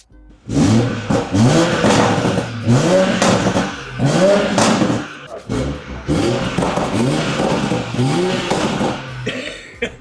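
A 2020 BMW X5 40i engine after a downpipe install, revving in repeated rising pulses with a deep rumble, loud and close, blips following one another over several seconds.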